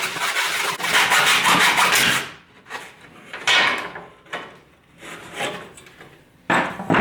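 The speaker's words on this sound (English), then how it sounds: "We're going to drop this one here into our miter box, and we're just going to cut the face of it straight down the middle." A hand saw cuts through timber set in a miter box for a garden bed build, with close rasping strokes in an uneven rhythm that thin out into a few slower pulls.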